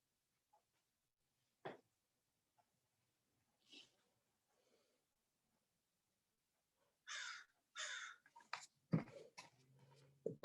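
Crows caw outdoors at a distance, a few scattered calls early on, then a louder cluster of harsh caws in quick succession near the end.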